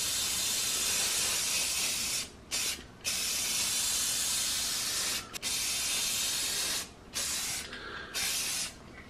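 Spray paint applied to the bottom of a bare aquarium, loud close hissing bursts held for several seconds each with short gaps between them.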